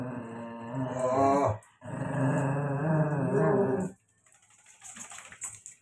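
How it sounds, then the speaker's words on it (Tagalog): A dog growls in two long, rumbling snarls close to the microphone, separated by a brief pause, then quieter rustling and a short spoken exclamation. "Ang aso, ayun nagagalit pa, di ba?"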